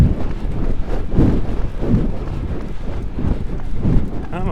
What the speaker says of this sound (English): Into the headwind too.